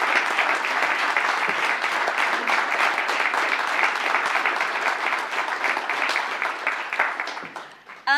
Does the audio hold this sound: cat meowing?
no